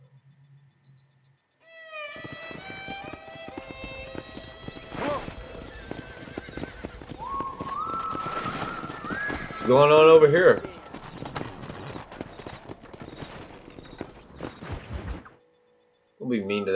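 Horse neighing and whinnying with clip-clopping hooves in the Red Dead Redemption video game, a loud whinny rising near the middle, with a voice speaking over parts of it.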